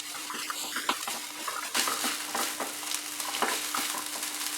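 Veg burger filling frying in a pan, a quiet continuous sizzle broken by irregular scraping and tapping of a spoon as it is stirred, close but fairly faint, with no talk.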